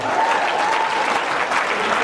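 Audience applause at a Kinyarwanda comedy performance, a loud, even sheet of many hands clapping that fills the space throughout.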